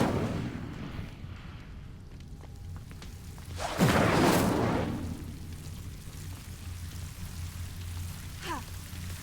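Incendio fire spell cast in a Harry Potter video game, a sudden whooshing burst of flame lasting about a second over steady ambient game noise, then a fainter crackling tail.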